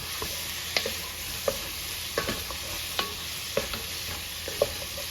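A spoon stirs a beef stew mixture with Worcestershire sauce in a pot, giving a series of wet scraping and clinking strokes every half second or so over a soft, steady sizzle, nearby and without talk.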